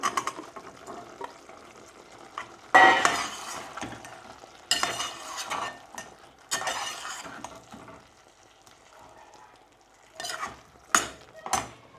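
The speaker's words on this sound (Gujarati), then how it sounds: "આપણે હજુ એકવાર મિક્સ કરી દઈએ અને મરચાં પણ નાખી દઈએ" A spoon stirs veg biryani mixture in a cooking pot, with intermittent scraping and clattering bursts over a faint sizzle, spaced out with quieter gaps and no speech.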